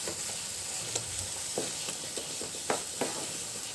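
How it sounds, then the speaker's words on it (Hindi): Kesariya halwa made with milk powder and ghee is stirred in a pan with a low sizzle, as a spoon scrapes through it in a few distinct strokes. "इसको अच्छी तरह से चला लेंगे"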